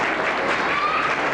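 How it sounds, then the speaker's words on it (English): A brief, steady wash of audience applause for a talented performer at an evening talk about ghosts and goblins, fairly loud and unbroken with no voices over it. "Give her a big round of applause."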